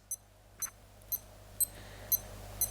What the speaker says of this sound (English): And the beep happens when you push it.